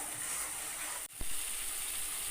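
Spice paste fries in oil while being stirred for a curd potato dish, a steady faint sizzle with a brief scrape of the spoon partway through.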